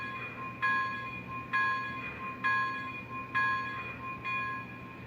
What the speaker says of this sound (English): Here's the bell.